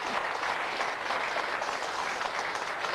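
A studio audience at a Ukrainian taping of Who Wants To Be A Millionaire claps steadily and fairly loudly, a continuous even wash of applause with no voices standing out.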